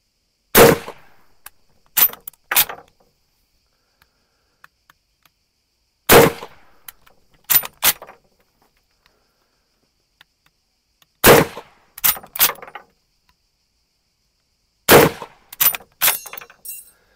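Steyr-Mannlicher M1895 straight-pull rifle firing, four sharp loud shots spaced several seconds apart, each followed by quick metallic clacks of the bolt cycling, with the final round ejecting the clip.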